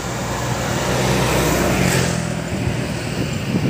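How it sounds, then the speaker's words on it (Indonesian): Steady roar of cars and trucks crossing the Gladak Perak bridge on the Malang–Lumajang road, a continuous rumble of engines and tyres with vehicles passing close by throughout. "Kita lihat nih ada roda 4 atau roda 6 ya yang melintasi jembatan Geladak Perak ya."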